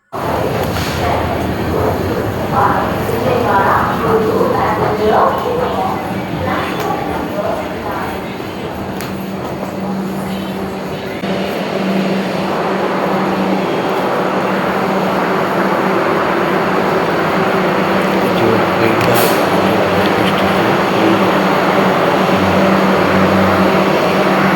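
A train rumbles and hums at a Vijayawada railway station platform, with a steady mechanical drone and people talking nearby.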